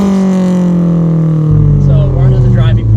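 Honda S2000 CR fitted with a Powerhouse Amuse R1000 exhaust gives a loud, close engine drone that deepens and rises under acceleration partway through, with a brief voice audible over it.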